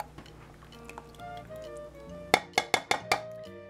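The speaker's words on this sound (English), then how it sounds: "Now I'm going to mix the egg yolks with the buttermilk" Egg yolks and buttermilk are mixed in a bowl for red velvet aebleskiver batter, heard as soft stirring followed by a rapid run of five bright clinks of utensil against the bowl.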